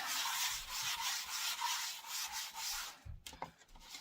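Sandpaper scuffs white sealant off a piece of wooden furniture in steady back-and-forth strokes, close and loud, ending with a few light knocks and handling sounds.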